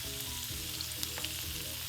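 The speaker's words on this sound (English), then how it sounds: "All right, so you can see the shrimp is grilling nicely." Garlic lemon shrimp sizzling on a grill, an even, close frying hiss with faint pops and crackles and no talk.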